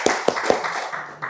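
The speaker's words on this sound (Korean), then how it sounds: "이렇게 박수 모으겠습니다." A church congregation at a Sunday service in Gwangju claps together, giving a few sharp, evenly spaced claps in unison that fade into a softer patter of hands.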